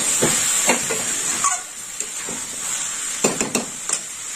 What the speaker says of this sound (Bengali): মোচা এর সঙ্গে কষে নেব।